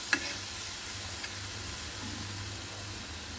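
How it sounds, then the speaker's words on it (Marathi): Raw green mango pieces searing on a hot iron tawa give off a steady, soft sizzle throughout, with one small sharp tick near the start and no talking. "आणि कैरी आपण आता छान शिजवून घ्यायची, म्हणजे त्या कैरीला असा चटका द्यायचा"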